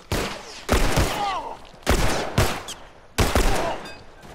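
Loud bursts of gunfire ring out in The Last of Us Remastered, in several rapid volleys separated by short pauses.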